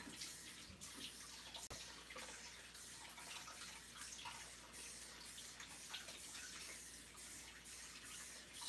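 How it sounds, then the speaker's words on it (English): Tap water runs steadily into a kitchen sink during handwashing, a faint, continuous splashing hiss with no break. "Let's wash our hands."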